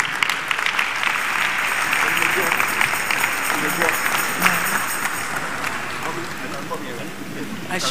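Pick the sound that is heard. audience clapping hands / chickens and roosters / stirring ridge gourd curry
audience clapping hands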